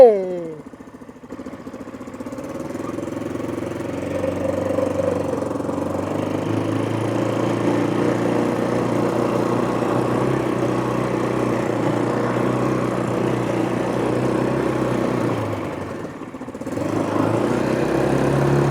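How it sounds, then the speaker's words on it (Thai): An ATV engine runs steadily and fairly loud at a low, even idle rumble for most of the stretch, with a short dip near the end and a voice at times. "วันนี้เราจะมาขับ ATV กันนะครับ"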